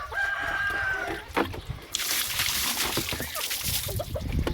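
Pet chickens on a rural provincial farm cluck and crow, with a rooster call near the start, over steady outdoor noise and some splashing water.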